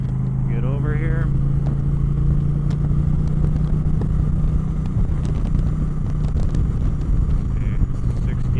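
A 2025 Indian Chieftain Powerplus Dark Horse motorcycle cruising on the road, its engine a constant loud low drone with wind rush from on board, and a voice speaking briefly near the start.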